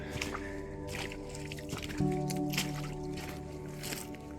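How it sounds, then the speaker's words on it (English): Boots slosh and squelch through shallow water in slow, uneven steps, with splashes and drips close by and a steady low hum underneath. "I'll walk through the water with my boots because they're waterproof."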